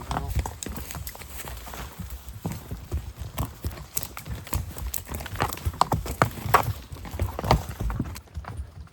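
A pack horse's hooves clop unevenly on a rocky trail, close and irregular, with scuffs and knocks between steps and a quiet voice briefly underneath.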